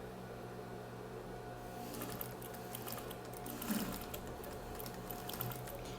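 A sewing machine runs steadily, stitching along the edge of fabric for a bathroom set, a continuous whirring hum with slight swells, close and alone without voices.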